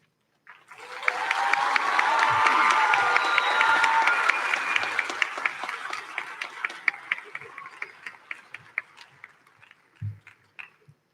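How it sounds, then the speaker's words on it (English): A crowd at a high school graduation ceremony breaks into loud applause with some cheering, swelling quickly then thinning out into scattered claps before fading. "Give them another round of applause."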